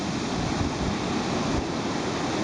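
Ocean waves washing in over the sand of a beach at Stockton, New South Wales, a steady loud roar of surf mixed with wind noise, with no voices.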